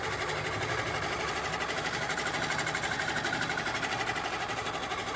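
A sewing machine runs steadily for several seconds, stitching straight parallel quilting lines in a continuous, even, close-up whir with no talking.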